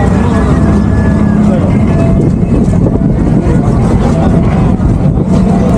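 A tour boat's motor rumbles steadily on the sea at Kanyakumari, a loud, close, continuous low drone with wind noise, and a voice talks over it.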